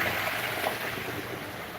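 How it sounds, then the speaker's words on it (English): Vigorous air bubbling churns in an aquaponics tank beside a bell siphon flood-and-drain setup, a steady broadband hiss and gurgle that holds at even loudness throughout, with no talk. "Vigorous air bubbling in there so that the roots don't drown."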